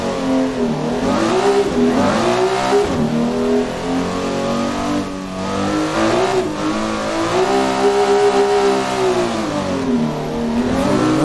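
A Nissan S15 engine in a drift racing sim at Bikernieki, loud and close, revving in continuous rising and falling sweeps as the throttle is flipped on and off, no talk.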